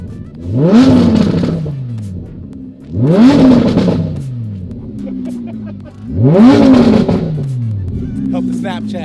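An Audi R8 supercar at a rally meet revs hard three times, each loud engine sweep rising then falling back to idle, close by with a bright harmonic climb.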